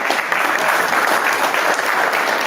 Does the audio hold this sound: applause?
yes